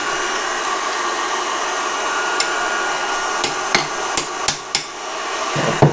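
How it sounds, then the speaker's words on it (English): Sharp hammer taps, six in all and spaced a second or less apart, ring out against a heated broken stud. A steady loud hiss, probably the torch, runs underneath throughout. "I want to tap this on with a hammer and give it a little bit of a turn"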